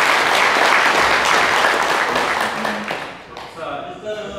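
Applause from an audience for campaign volunteers at a Saenuri Party Daegu city chapter event, loud and sustained clapping that fades out, with a voice speaking in Korean as it ends.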